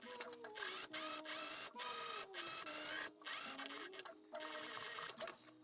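A sewing machine stitches pants fabric in short bursts of rapid, mechanical whirring, pausing briefly several times between runs, close and fairly quiet with no talk.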